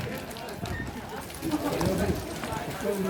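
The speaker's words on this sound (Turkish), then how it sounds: "Karataş'tan Bolat Balban mingen atı." Horse hooves pound in a fast gallop during an ulak horseback game in a Kyrgyz village, a rumbling clip-clop under loud crowd noise and an announcer talking throughout.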